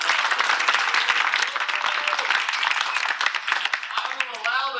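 Applause from a seated audience at a set of final team presentations: dense, continuous clapping that holds steady for the whole stretch, with a voice starting to speak over it near the end.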